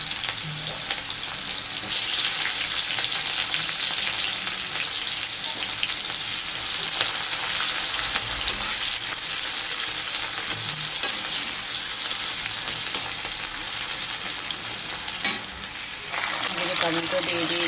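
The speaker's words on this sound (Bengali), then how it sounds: "তেল গরম হয়ে গেছে, পেঁয়াজ দিয়ে দিচ্ছি," Onions hit hot oil for a mushroom curry, producing a continuous, loud, close sizzle with stirring scrapes throughout, and a brief change in texture near the end.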